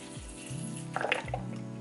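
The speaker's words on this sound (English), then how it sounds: "I like to water the substrate." Water poured onto potting substrate in a plant pot, a soft splashing and trickling burst about halfway through, close and moderately loud over a low steady hum.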